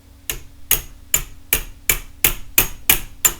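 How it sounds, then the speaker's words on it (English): A hammer tapping a chisel to knock a node off bamboo, nine crisp, evenly spaced strikes, loud and close with brief ringing after each. "I put the chisel against the base of the knot and use a hammer and press down so it's a very, very flat angle,"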